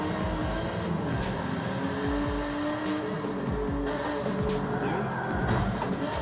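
Race car engines roar and tires squeal in the racing game Forza Motorsport 7, a loud, continuous revving drone with rhythmic clicking on top and a person talking over it.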